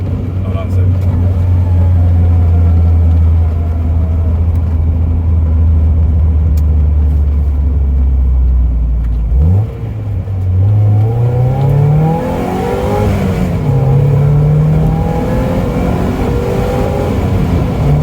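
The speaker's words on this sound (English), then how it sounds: "My MagnaFlow exhaust." A 1994 Mazda Miata engine with a MagnaFlow aftermarket exhaust rumbles low and steady, then revs up and climbs in pitch as it accelerates, with a deep throaty exhaust note throughout.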